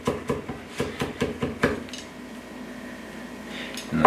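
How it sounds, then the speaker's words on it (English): Knife quickly chopping Chinese sausage on a board, about eight rapid sharp knocks in an even rhythm, close and crisp, then a quiet pause before one last clack. "And a quick chop."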